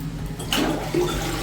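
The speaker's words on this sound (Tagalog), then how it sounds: "Check natin kung working yung flush." A toilet in a restroom at a fishing spot in Magalang, Pampanga flushes with a sudden rushing gush of water, close and moderately loud, with no talking over it.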